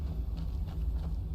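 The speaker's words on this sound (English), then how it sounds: "Over here, we got Arvak, the horse." In the Skyrim video game, the hooves of the summoned horse Arvak clop in a quick, steady rhythm over a loud, continuous low rumble of game ambience.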